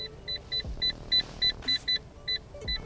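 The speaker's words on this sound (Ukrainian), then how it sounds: "Можна звук цього піптика регулювати" About a dozen short electronic beeps from the dashboard beeper sound at an even pace inside a Fiat Punto 1.3 diesel, with a couple of faint mechanical clunks underneath.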